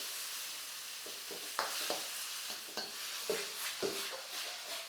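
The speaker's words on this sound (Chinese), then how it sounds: "下入番茄后，我们就继续大火翻炒" Tomatoes hit a wok over high heat with ginger, a steady bright sizzle underneath irregular scrapes and knocks of a spatula tossing and stirring, no voices.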